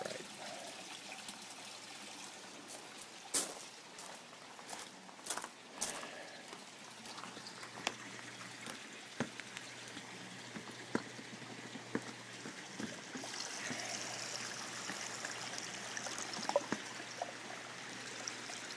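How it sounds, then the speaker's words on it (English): Aquarium tank water running into a sump below the tank, with the swirl filter bypassed: a steady trickling, splashing flow with scattered sharper drips and knocks, fairly close and moderately quiet throughout. "My tank water goes right into the sump."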